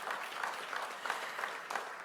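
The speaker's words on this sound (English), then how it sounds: "Give her another round of applause." Audience applause for the commissioner at a CIAA conference event in Baltimore, a steady dense clapping from a sizeable crowd that runs evenly throughout without pause.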